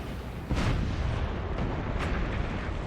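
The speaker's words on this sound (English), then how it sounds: "Well, I sniped off one of their howitzers." Heavy howitzer artillery fire booms out in the real-time strategy game Forts, a dense continuous rumble with a few sharper blasts rising out of the barrage.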